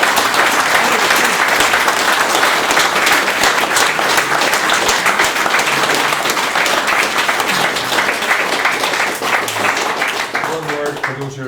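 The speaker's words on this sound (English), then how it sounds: "I think we should end up with a round of applause" A crowd at a tribute presentation applauds in a loud, sustained round of clapping that fades slightly toward the end, and a few voices can be heard under it.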